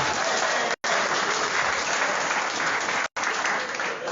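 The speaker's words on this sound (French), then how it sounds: "Est-ce qu'on peut applaudir pour le" A crowd applauds loudly and steadily, with two brief cuts of silence breaking the clapping.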